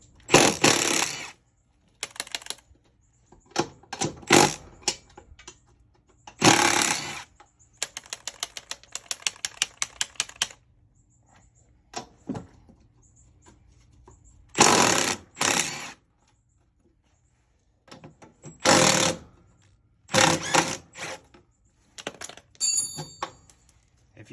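Ratchet and socket on through-bolted spindle bolts of a Scag mower deck: bursts of rapid metallic clicking separated by quiet pauses, close and fairly loud, with no talking.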